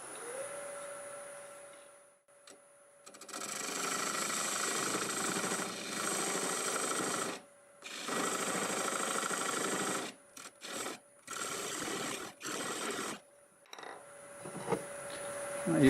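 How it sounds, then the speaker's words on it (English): A parting tool cuts into a spinning wood blank on a lathe running at 800 RPM, giving bursts of scraping, rasping noise that stop and start in several separate passes over a faint motor hum. "I'll start this with my parting tool."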